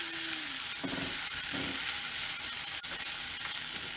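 Bacon cheeseburger egg roll filling, ground meat with a few dashes of vinegar, sizzles in a hot pan with a steady broadband hiss through the whole stretch, broken by a few brief clatters and scrapes.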